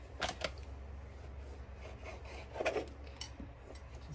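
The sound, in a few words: knife cutting deli meat into small pieces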